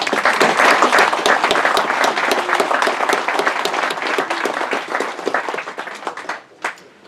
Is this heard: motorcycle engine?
no